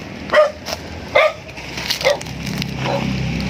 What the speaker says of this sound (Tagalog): Parang takot naman yung aso sa atin.